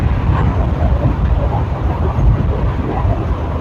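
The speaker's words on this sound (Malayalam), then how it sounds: "നമ്മുടെ ട്രെയിൻ ഇപ്പം മാനാമധുര റെയിൽവേ സ്റ്റേഷൻ എത്തിക്കൊണ്ടിരിക്കുന്നു" Steady loud rumble of the Amrita Express passenger train running, heard from inside a coach as continuous low-pitched roar and rattle without pauses.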